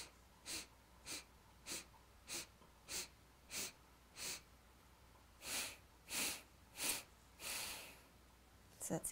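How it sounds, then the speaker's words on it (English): Rhythmic sniffing breaths through the nose during a meditation breathing exercise, about a dozen short sharp sniffs in a steady pulse, with the last few louder and longer, close and clear with no talking. "We'll inhale in 8 sniffs through the nose and out in 4 sniffs through the nose."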